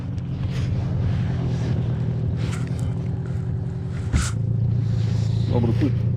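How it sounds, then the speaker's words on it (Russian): A steady, low motorboat engine drone runs throughout with wind buffeting on the Pechora River, a brief knock near the middle, and the hum continuing loud and close. "Завелась лодка."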